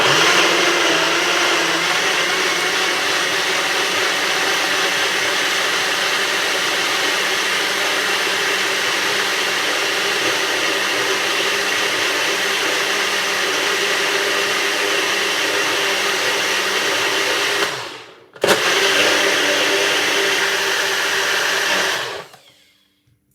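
A blender whirs loudly and continuously while making a green cucumber smoothie, a steady high-pitched motor drone that stops briefly, restarts, then winds down, with no talking over it.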